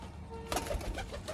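Teddy pigeons give a brief, soft cooing call close by, a low throaty coo lasting about a second against light background noise.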